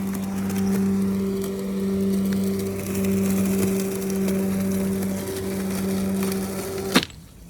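Lymow One Plus robotic lawn mower cutting grass directly beneath a tree, a steady close motor hum with strong tonal whine and rough scraping texture, ending in a sharp knock and abrupt cutoff near the end.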